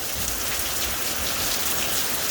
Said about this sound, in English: now we're getting the rain